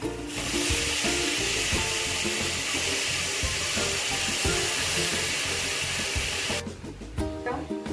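Mixed vegetables for bhogichi bhaji dropped into masala in a pan, a loud, dense, continuous sizzle that holds steady before abruptly dropping off near the end.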